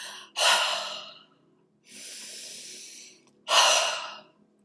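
Slow, deliberate meditative breaths: a deep inhale, a long steady exhale, then another deep inhale, each separated by silence, close and intimate with no talking.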